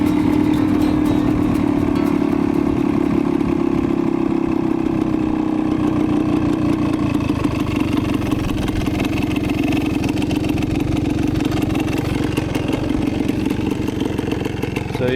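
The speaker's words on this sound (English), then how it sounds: "the bike is definitely nice and warm now. It's running, idling well." An old two-stroke 1973 Suzuki TS250 motorcycle engine, warmed up, idles steadily for a long stretch, a rough buzzing putter that stays close and even with a slight rise partway through.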